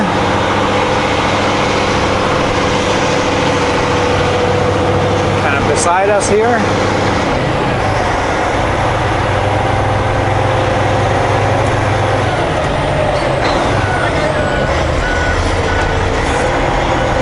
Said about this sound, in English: Septo truck is just pulling in.